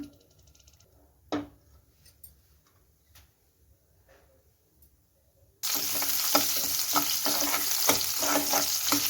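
Onion frying in a few spoons of oil for tomato chutney: after a near-silent stretch with a few light knocks, a loud steady sizzle bursts in and continues, with stirring scrapes over it.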